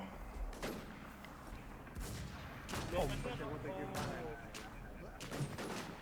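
Gunfire in the online survival shooter WarZ: a handful of sharp, scattered shots spread across a few seconds, moderately loud, with players talking over them.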